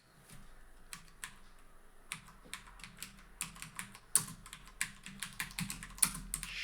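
Someone types a prompt on a computer keyboard, heard as quiet, close key clicks in irregular bursts that grow busier and a little louder toward the end, with no talking.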